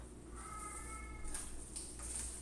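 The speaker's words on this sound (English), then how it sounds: "Can you hear him meowing?" A cat meows in a drawn-out, tonal call, faint against a steady background hiss, followed by a few soft clicks and rustles.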